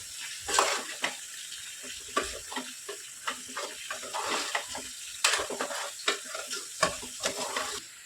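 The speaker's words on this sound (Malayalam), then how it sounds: "ഇത് ഇളക്കി കൊടുക്കും" Spoon scraping and stirring food in a pan in irregular strokes, over a soft sizzle, close up with no talking.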